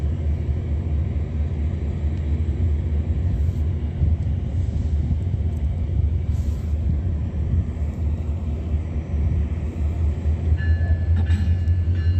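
A Metrolink commuter train passes at a distance, heard as a steady low rumble that holds throughout without any talk.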